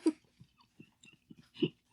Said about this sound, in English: I think I can hear myself chewing the boba